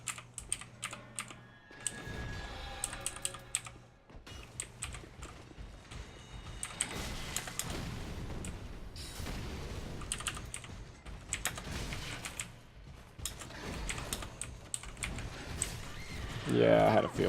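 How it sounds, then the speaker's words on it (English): Keys on a worn-out computer keyboard are pressed in irregular bursts of clacks, one key held down and wiggled, with quiet talk and game sound in the background. "I'm holding the A key down. Nothing. There we go. Like, give it a wiggle and it wants to work"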